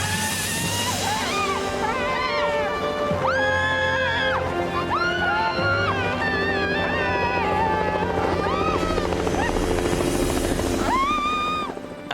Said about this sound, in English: coming up from the valley floor is that sound of a helicopter